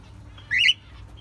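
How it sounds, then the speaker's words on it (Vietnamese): Parrots in a pet shop give one short, bright squawking chirp, close and clear, over a quiet low background hum. "Đây là những con két."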